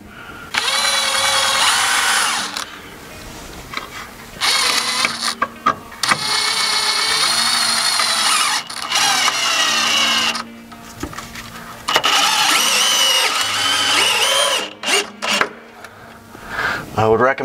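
Cordless power drill driving toenailed screws into wood deck blocking beneath deck treads, loud whining bursts of a few seconds each, starting and stopping repeatedly up close, with short pauses between runs.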